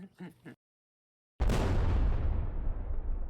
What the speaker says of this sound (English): Editor, explode Chandler.